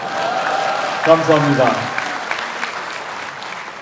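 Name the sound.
audience applause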